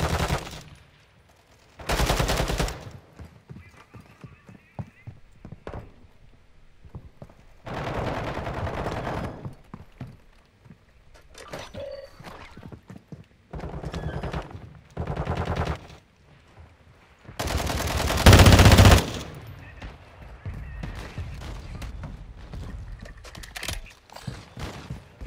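Rapid automatic gunfire from a weapon in the shooter DMZ, several loud, close bursts of fast shots separated by quieter gaps, each burst sharp and punchy, with no talking over it.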